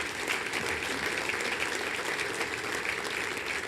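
Steady applause from a large dinner audience at a public health school's centennial celebration, dense and continuous clapping filling the room with no voices over it.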